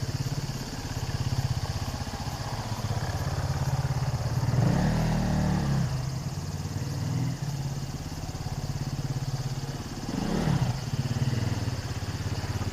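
A KTM dirt bike engine runs steadily through wheelie practice, a continuous mid-pitched drone that swells into two louder revving surges, one near the middle and one toward the end.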